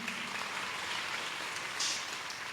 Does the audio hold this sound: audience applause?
yes